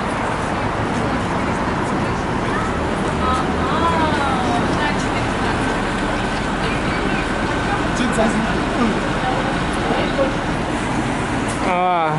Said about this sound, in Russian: А, автобус.